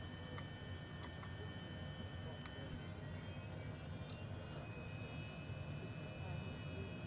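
A HondaJet taxis to the active runway in Microsoft Flight Simulator 2020, making a steady, low engine hum and rumble. Faint ticks and tones sit over it, with no speech.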